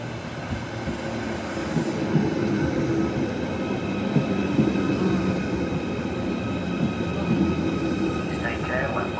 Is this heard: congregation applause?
no